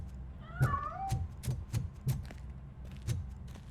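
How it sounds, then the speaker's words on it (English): A cat in RoboCop: Rogue City meows several times as it escapes, with a rising, wavering cry early on followed by a string of short, spaced calls over low background ambience. "That cat must be hiding inside."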